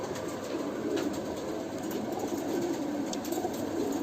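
A female pigeon of a prized high-flying breed cooing softly against a steady low background hum, the calls faint and rolling throughout.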